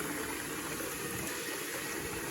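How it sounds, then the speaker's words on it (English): Water pours steadily into a container for pigs on a farm, a constant close gushing and splashing rush with no voices over it. "We're filling up the pig water for our little pigs when they come."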